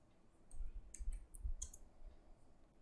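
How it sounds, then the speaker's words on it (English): Typing on a computer keyboard, a faint, brief run of soft key clicks in small irregular clusters, heard alone. "So let me type this REST assured."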